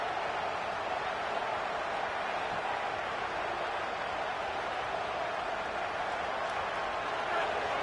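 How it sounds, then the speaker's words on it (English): Roaring stadium crowd at a football game, a steady dense wash of cheering and noise that holds level throughout without pause, broad and distant-sounding like a packed stand. "listen to this crowd coming through"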